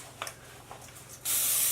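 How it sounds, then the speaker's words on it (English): Cooking spray hisses from a can into a mini muffin pan in a continuous burst that starts abruptly partway through, after a few faint kitchen clicks and handling sounds. "just kind of spray it like that"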